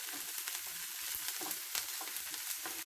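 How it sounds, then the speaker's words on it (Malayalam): Onion, curry leaves, green chilli and ginger sauté in a pan with a steady, close hiss of frying and a few soft stirring scrapes, then a brief cut to silence near the end, for an egg puttu made from leftovers. "ഇത് ചെറുതായിട്ടൊന്ന് വഴന്നു വരട്ടെ."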